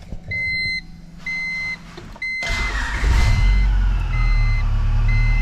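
A supercharged Honda Civic EM1 engine cranks and catches after several chimes and beeps, then settles into a loud, steady idle with a low rumble and some whine.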